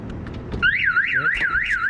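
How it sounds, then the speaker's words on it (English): A Viper car alarm fitted to a Honda Integra sounds at close range, beginning with a few chirps and then cycling into a loud, rapidly warbling siren tone. "And then I'm gonna open it and see if the alarm works."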